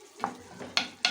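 Chicken pieces are turned over in a pot, making three quick scraping stirs over a soft sizzle.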